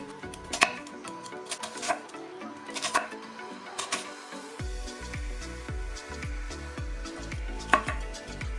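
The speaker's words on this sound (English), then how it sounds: "We'll start with the onion, get off all this papery stuff on the outside because we don't want that, and then we're going to cut this up really finely" A knife chopping an onion finely on a cutting board, a run of sharp clicking knocks coming in uneven bursts, close and fairly faint, over a low steady hum with tonal background sound.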